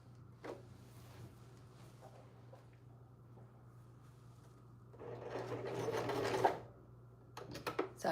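A sewing machine stitches a skirt in short bursts: quiet whirring runs with brief pauses, then a louder sustained stretch of rapid stitching, ending in a few quick clicks and pulses, close by in a quiet room.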